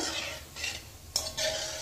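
Brief scraping strokes of a spoon stirring semolina gulab jamun sweets in a pan, with a soft sizzle of frying oil between the strokes.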